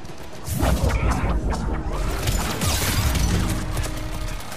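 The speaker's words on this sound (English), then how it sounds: "I can hear gunfire, so something's going on." Heavy bursts of gunfire and crashing impacts from Mass Effect 3 roll on continuously, loud and dense, with whooshes and mechanical clanks mixed in.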